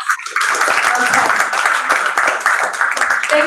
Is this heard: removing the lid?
no